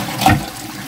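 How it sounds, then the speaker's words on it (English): An Ideal Standard toilet flushed with a single button releases a brief, close rush of water into the bowl, alone without talk. "So this is what happens when you flush with just one button."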